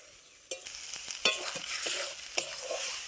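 Pointed gourd and prawns are stir-fried in a pan, with a light steady sizzle punctuated by several sharp scrapes and knocks of a spatula, close and fairly quiet, with no voices.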